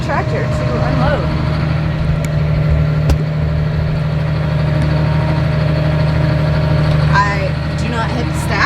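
A tractor pulling a grain cart during corn harvest hums with a steady low engine drone as it draws up alongside a semi truck, with someone talking over the engine throughout.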